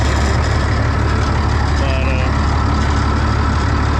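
A Minneapolis Moline G707 tractor, abandoned and parked for 13 years, runs with a loud, steady low engine rumble throughout, a rough unmuffled drone that stays constant from start to finish.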